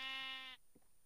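One bright, reedy sheep bleat from a video game rings out for about half a second and then stops abruptly, leaving near silence with a faint soft thud.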